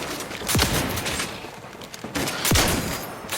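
Two loud bursts of gunfire from a weapon in the video game The Outer Worlds 2, each a rapid crackling volley with a sweeping tail, separated by a brief lull of ambient game noise.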